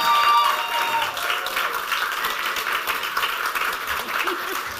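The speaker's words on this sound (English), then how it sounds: "please give a round of applause to Mercy" An audience at a showcase event applauds for an honoured guest, sustained close clapping from many people with faint tonal sounds early on and a little background voice activity beneath.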